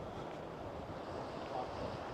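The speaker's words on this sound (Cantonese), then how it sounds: "但係海邊始終都大風嘅。" Strong seaside wind buffets the microphone over a continuous wash of waves at the Giant's Causeway coast, a steady, fairly faint roar with no voices.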